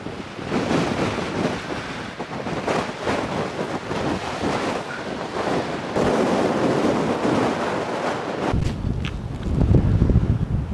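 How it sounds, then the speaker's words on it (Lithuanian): Rough, heavy sea surf breaking on the shore at Sand Point, England, with strong wind buffeting the microphone, a loud continuous roar that swells and surges throughout. "pirmiausia jūra didžiulė, pašiaušta"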